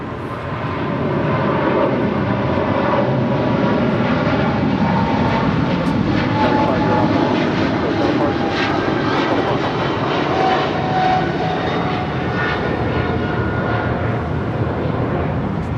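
Close, loud roar of a cargo jet airliner passing at Los Angeles airport, its steady broadband engine noise holding strong and even throughout with no talking.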